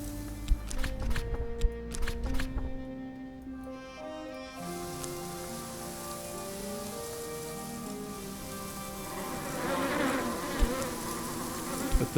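Bees buzz around a hive in the video game Book of Hours during winter, a steady droning hum under soft game music, with light pattering and no talk.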